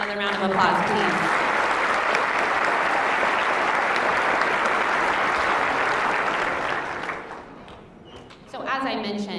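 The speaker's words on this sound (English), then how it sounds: "Another round of applause, please." Sustained applause from a school audience at a high school senior recognition assembly, loud and dense for several seconds before tapering, with a speaking voice returning at the end.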